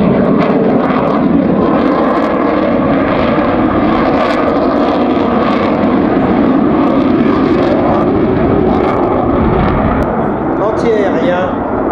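A Belgian Air Force F-16 fighter jet, the Dream Viper, flies a solo display at an air show, its loud continuous engine roar filling the scene while an announcer talks over it.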